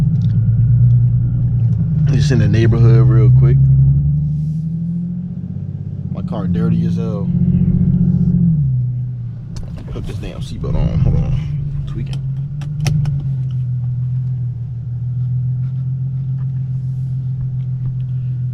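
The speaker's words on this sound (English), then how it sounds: "I'm finna show y'all what the Vibrant Resonators sound like" An Infiniti G37 fitted with Vibrant resonators rumbles at low idle and through short revving pulls while driving through a neighborhood, the engine droning steadily underneath as someone talks over it.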